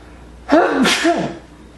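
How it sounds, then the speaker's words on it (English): A single sneeze, a sharp inhaled build-up followed by a loud explosive burst, heard close and alone. "I'm going to sneeze"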